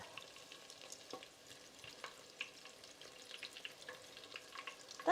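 Onion rings frying in a pan on the stove give a faint, steady sizzle with small crackles and pops, close by, with no talking.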